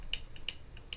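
Three light metallic clicks land at an even pace from the drag plate of a Penn International II 80TW fishing reel, faint and close, with no talk.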